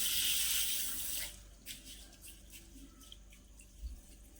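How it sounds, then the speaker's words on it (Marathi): Water pours onto split green mung lentils in a hissing splash for about a second, then stops, leaving faint trickles and small clinks in a quiet room. "त्यामध्ये ना आपल्याला पाणी घालायचं"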